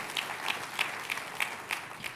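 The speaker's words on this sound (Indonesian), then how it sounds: "Tepuk tangannya boleh yang paling meriah buat Tuhan dia." Worshippers at a church service applaud for God, a steady wash of clapping with distinct rhythmic accents recurring about every third of a second, moderately loud.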